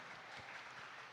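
Church congregation applauding during a live worship service, a steady dense wash of clapping that sounds fairly distant and quiet throughout the brief moment.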